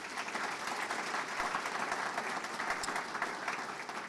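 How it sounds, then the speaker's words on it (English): A crowd at a university community reception at MSU Texas bursts into dense, continuous applause, a steady wash of many hands clapping at even loudness throughout. "Let's give them a round of applause."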